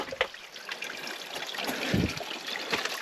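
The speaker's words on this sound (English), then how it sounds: "Could just sit here for hours listening to the trickling of the stream." A shallow stream trickles close by in a continuous, gentle babble with small splashes and gurgles, and no voices over it.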